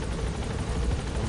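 A helicopter in Metal Gear Solid 5: The Phantom Pain gives a loud, steady rotor and engine roar that fills the short clip without a break.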